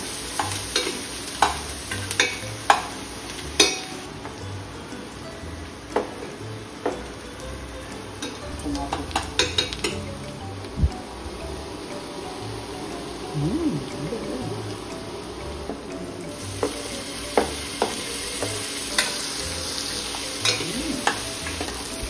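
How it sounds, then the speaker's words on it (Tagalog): Garlic, onion and tomato sautéing in butter in a pan, a steady close sizzle broken by frequent sharp clicks and scrapes of a spatula stirring, with some brief background voice activity but mostly no clear speech. "After natin magisa yung bawang, sibuyas at kamatis"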